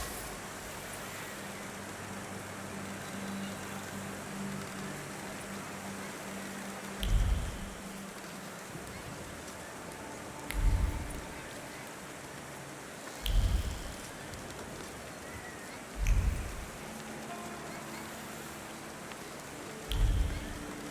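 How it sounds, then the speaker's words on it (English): Steady broadband rain hiss in the video game The Thaumaturge throughout, with several low, dull thumps recurring every few seconds on top of the downpour. "And now it starts to rain."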